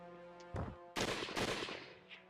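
Several sharp video game gunshot bursts crack out in quick succession over a steady electronic hum, loud and close, with a brief quieter pop near the end.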